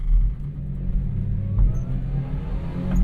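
A small Japanese Kei truck's engine runs floored and accelerating, a steady close rumbling drone with a brief surge near the middle and another at the end, no voices over it.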